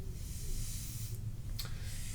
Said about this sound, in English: I've got the paint loaded into a Harder and Steenbeck Infinity airbrush